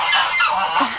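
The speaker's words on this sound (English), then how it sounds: "there's the geese." Geese honk loudly and close by outside a winter greenhouse, a short burst of overlapping calls lasting about a second with no talking.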